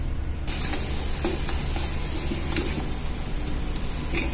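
A coconut, ginger, garlic, coriander and green chilli paste goes into a hot pan for prawn curry, bringing a steady loud sizzling hiss with a few faint clinks, close by.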